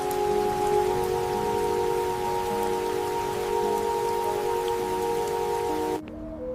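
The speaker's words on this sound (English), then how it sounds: "He was letting the rain wash away the ghost of her." Rain falls in a steady, even wash, heard alone under a faint sustained tonal hum, then cuts off abruptly near the end.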